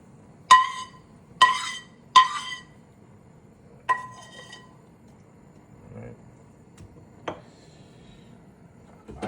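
Garlic cloves dropped into a stone molcajete make three quick, bright clinks close together, followed by a softer knock and a few faint taps and rubs over a quiet room.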